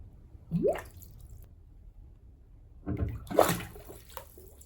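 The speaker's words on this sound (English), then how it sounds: "On its own, a single air bubble sounds like this." Two separate air bubbles pop and gurgle in water inside a small container, each a short rising blip with a wet splash, separated by quiet.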